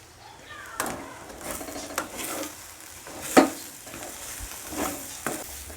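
Curry leaves frying and sizzling in a pan, with a steady crackle broken by several sharp stirring scrapes and clinks of a spoon against the metal.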